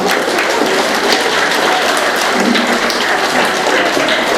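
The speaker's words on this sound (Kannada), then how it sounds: "ತಾವೆಲ್ಲರೂ ಜೋರಾದ ಚಪ್ಪಾಳೆಯೊಂದಿಗೆ ಹರಿಣಾಕ್ಷಿ ಮೇಡಮ್ನವರನ್ನು ಈ ವೇದಿಕೆಯಲ್ಲಿ ಗೌರವಿಸಬೇಕು" An audience at a school anniversary celebration applauds to honour a teacher, a dense sustained round of clapping that stays loud and even throughout without any speech.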